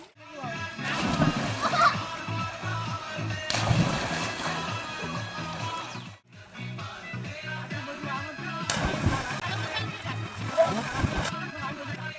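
People splash and slosh in a tank of fresh bore-well water at a farmhouse, with loud, continuous churning water under voices and short breaks between bursts.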